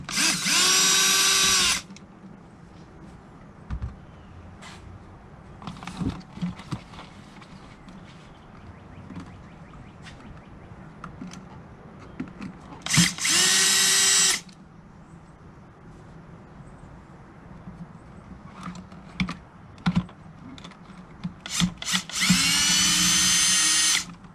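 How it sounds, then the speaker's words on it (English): A powered screwdriver backs number 2 Phillips screws out of a 2002 Subaru WRX in three loud, whirring bursts of about two seconds each, with quiet clicks and handling noises between them. "Next, I'm going to be removing these right here. Still going to use a screwdriver or a number 2 Phillips."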